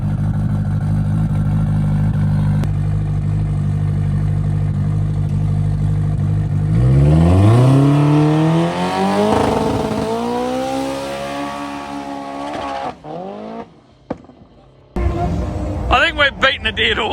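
A turbo K-series race car launching hard at the track, its engine droning at idle and then revving up in a loud rising sweep with tyres spinning, before backing off into sputtering pops and rough running.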